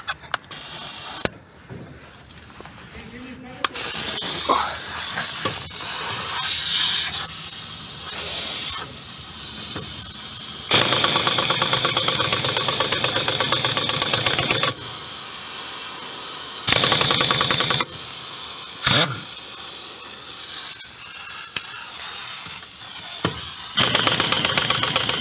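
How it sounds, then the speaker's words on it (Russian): Pneumatic air compressor running loudly in a garage workshop during a test of a cheap air impact wrench, a steady mechanical drone with hiss that cuts in and out in several sections, occasional bursts and clanks, with no speech. "Компрессор работает, слышно, наверное."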